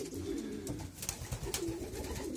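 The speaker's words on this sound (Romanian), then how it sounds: "Acești porumbei se află acum în matca crescătoriei noastre." Soft, low cooing from breeding pigeons in a loft repeats steadily at a moderate distance, with faint rustling and flutter-like noise above it; no one speaks.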